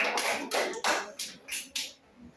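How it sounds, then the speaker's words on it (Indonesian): Classroom applause, a short burst of several quick hand claps in an uneven rhythm, moderately close, fading out after about two seconds. "Iya, tepuk tangan."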